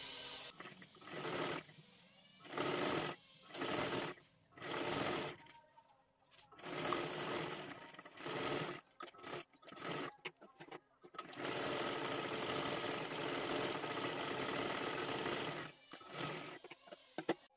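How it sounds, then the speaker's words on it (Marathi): A sewing machine double-stitches a dress made from saree fabric, running in short close bursts of rapid rhythmic whirring, then one longer continuous run, with pauses between and someone talking during the stops. "ही सुद्धा बाजू खालीपर्यंत आपल्याला डबल शिलाई मारून घ्यायची आहे"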